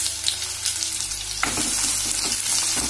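Onion hits hot oil in a kadhai, and a loud, close sizzle surges up partway through the short clip and holds steady after a quieter start.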